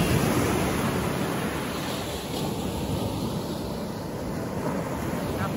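Ocean waves breaking at La Lancha beach in Mexico, a steady broadband wash of surf with a gentle swell in the middle and no distinct single crashes, continuous and fairly close throughout.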